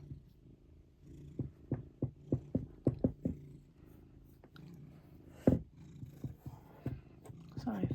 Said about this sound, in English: the cat's up on my table